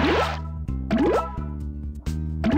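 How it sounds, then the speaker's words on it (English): Bubbles popping in a children's alphabet learning video game: a few bright, wet plops and drips spaced about a second apart, close and clear over a steady musical backing, with no talking. "Now, pop all the bubbles with the word king."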